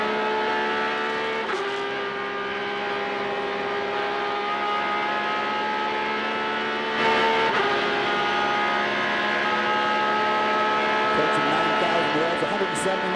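A race car engine screams at high revs from inside the car during the 2004 Sahlen's Six Hours of the Glen at Watkins Glen, a sustained buzzing roar with quick shifts in pitch and a couple of brief gear-change dips.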